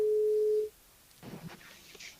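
A telephone line tone during a radio call-in sounds as one steady, loud beep for about half a second, then cuts off into quiet line noise and faint rustling.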